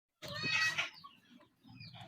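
A hungry cat gives one clear, close meow, followed by a fainter second call.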